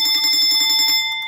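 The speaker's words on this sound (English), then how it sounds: "the alarm bell" An electric alarm bell rings loudly with rapid metallic hammering for about a second, then stops, leaving a fading ring.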